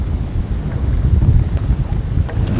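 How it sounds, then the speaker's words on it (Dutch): Strong force 6 wind buffeting a boat moored in a narrow Dutch canal: loud, steady low rumbling gusts batter the microphone throughout, with faint creaks and splashes beneath and no voices. "het is hier in de sloot dus nu ook al windkracht 6"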